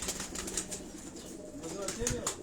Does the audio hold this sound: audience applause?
no